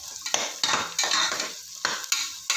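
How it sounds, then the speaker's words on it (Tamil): Onions sautéing in a pan for vegetable biryani, with repeated scraping stirs in irregular bursts over a steady close sizzle; no talking. "வெங்காயத்தை போட்டுக்கிறேன். கொஞ்சம் நல்லா வதக்கிப்போம்."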